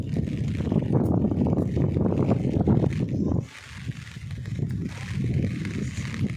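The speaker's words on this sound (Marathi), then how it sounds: "बघितलं केवढा वारा आहे" Strong wind gusts across paddy fields in a rural Konkan village during monsoon rice planting, a loud, continuous rushing buffet on the microphone that drops briefly midway before surging back.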